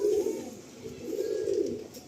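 Madrasi pigeons, a white pair with blue beaks and blue bands, cooing in soft, low, repeated rolling phrases, close by and alone without talk.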